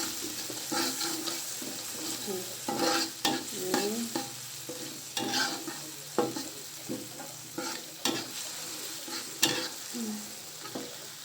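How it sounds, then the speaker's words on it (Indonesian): Capcay vegetables being stirred in a frying pan, repeated scraping strokes in an irregular rhythm over a soft sizzle, close and fairly quiet, no voices. "Ini kita aduk."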